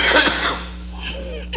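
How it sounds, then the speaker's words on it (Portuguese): A short, close cough opens the moment in a spoken spiritist talk, loud at first and fading into a quiet hum, with a faint voice returning at the end. "eita tossinha danada"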